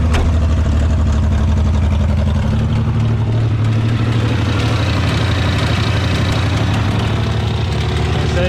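A Ford Bronco II engine idles loud and close with a steady low rumble and a faintly uneven, stumbling pulse from a misfire, running on without a break.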